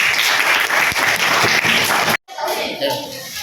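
A classroom of students bursts into loud, dense clapping that stops abruptly, then a quieter murmur of young voices follows.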